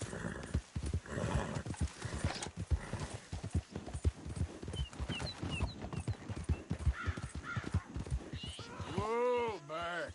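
Horse hooves clip-clop at a brisk, steady pace in Red Dead Redemption 2, close and continuous, ending in a loud neigh; someone speaks over the hoofbeats.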